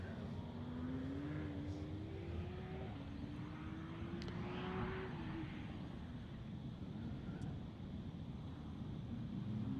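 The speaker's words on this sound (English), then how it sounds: "Another Porsche running off the line. Yeah, that's Mike Holland in the 991 Porsche Turbo." Porsche 991 Turbo launching off the line at a national hillclimb, heard as a steady, fairly distant engine drone with rising tones through gear changes, mixed with wind noise and no speech.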